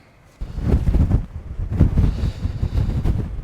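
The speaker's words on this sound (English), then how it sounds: "Yeah, it's pretty savage, that wind." Strong wind at a cold solo wild camp in the Southern Uplands buffets the microphone in deep, rumbling gusts that surge and ease continuously, with no voices.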